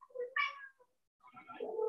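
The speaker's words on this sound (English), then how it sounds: "Here comes the cat." An indoor cat gives two short, quiet meows separated by a brief pause, close by and clear against silence.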